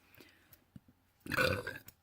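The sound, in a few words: burp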